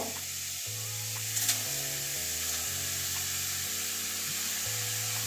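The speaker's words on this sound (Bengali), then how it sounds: "লাউয়ের কাঁচা গন্ধ যাওয়া পর্যন্ত ভাপাব" Raw bottle gourd steaming in a hot karai over a lit gas stove gives a steady, faint hiss and soft sizzle with a low steady hum beneath, continuous and without talk.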